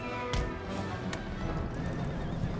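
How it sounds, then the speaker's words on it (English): Horses whinnying and hooves clopping amid a cavalry charge in the PC strategy game Empire: Total War (Darthmod), with a steady dense battle din throughout and a sharp neigh standing out early. "And now he's charging my horses."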